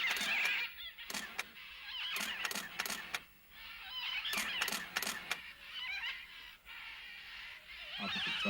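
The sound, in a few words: red and green macaws calling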